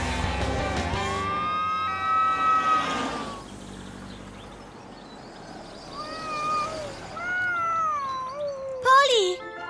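A cat meows several times in long rising and falling cries, close and fairly loud, over a low background hum.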